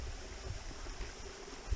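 Faint, steady rush of water from Glory Hole Falls and the creek below, a soft continuous wash heard briefly from a distance with no voices.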